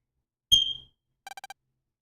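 A fire alarm in the room gives a single sharp, high chirp with a soft thump, then a quick run of five clipped electronic beeps, close and clear against silence.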